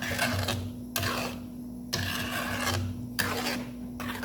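Homemade Thai chili sauce, made with pickled shallots, is stirred in a pan in four long, scraping rasps, each sweeping stroke followed by a brief pause, close and moderately loud with no voices.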